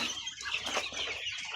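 Black chicks kept in cages cheep and cluck in a busy, continuous chorus of high chirps, fairly faint and close, with no talk over it.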